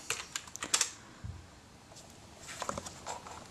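Password entered on a computer keyboard while a Wi-Fi repeater is being set up, heard as quick bursts of close, light key taps with short pauses between them, with no talking.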